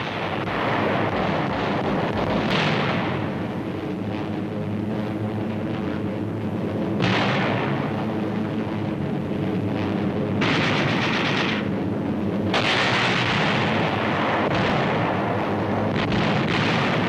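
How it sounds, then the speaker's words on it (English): Delayed-action bombs exploding among Japanese ships in wartime Pacific combat, a continuous roaring barrage of blasts and rumbling with several sharp bursts standing out, loud and dense throughout. "Delayed action bombs."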